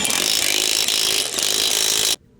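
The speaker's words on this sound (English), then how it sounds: "Now with your 22mm deep socket on your impact, go ahead and snug down the bolts in a crisscross pattern." An impact wrench fitted with a 22mm deep socket snugs down lug nuts on a 2008 Acura during CV axle installation, a loud continuous buzzing rattle for about two seconds, then stopping abruptly.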